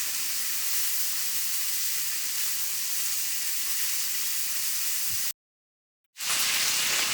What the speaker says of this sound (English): I'm going to saute these vegetables off until they're nice and soft.